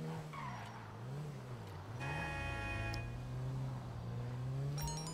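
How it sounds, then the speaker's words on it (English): A Honda Accord wagon engine in GTA 5 Online drones and rises in pitch, dropping briefly as it shifts gears, with tire squeal and a continuous racing-game roar throughout. "And we have some different sound. As you can hear it when it shifts the gear."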